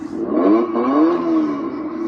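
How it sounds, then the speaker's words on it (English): Engine sound effect from a Best Choice Products ride-on toy truck, played from a steering-wheel button: a steady electronic revving drone with a rising and falling whine, continuous for about two seconds. "and then you've got an engine sound."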